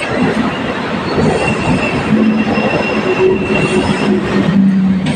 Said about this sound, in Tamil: நம்ம ஏற போகிற ட்ரெயின் வருது வேளச்சேரி